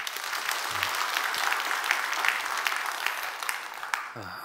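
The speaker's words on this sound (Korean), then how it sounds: "우리 수험생들 한번 박수 한번 해줘요" A church congregation claps steadily for students facing their college entrance exam, a fairly even, moderate patter of many hands with a few murmured voices underneath.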